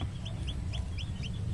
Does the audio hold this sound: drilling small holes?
no